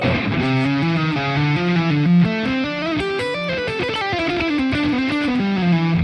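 Electric guitar with distortion playing a continuous melodic line of single notes stepping through chord tones, steady and prominent with no talking.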